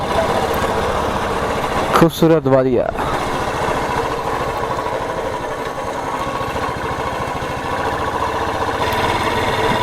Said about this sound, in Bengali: এই যে ডুক ডুক ডুক ডুক ডুক ডুক আওয়াজ করে, আগের মতো যদিও সাইলেন্সার নেই